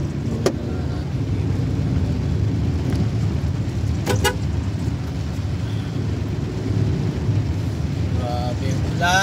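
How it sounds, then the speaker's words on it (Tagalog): Heavy rain pours steadily onto a car stuck in traffic, a dense, continuous hiss and drumming close around the cabin, with a brief horn toot partway through. "Ayan, malakas na naman yung ulan mga Lods."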